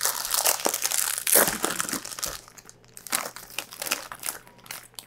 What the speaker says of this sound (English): as soon as I open the bag